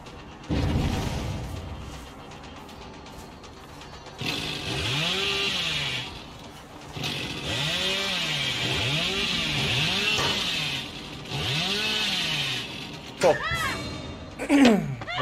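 The Hillbilly's chainsaw in the video game Dead by Daylight revs repeatedly, rising and falling whines in bursts over a droning motor, then a final sharp rev near the end.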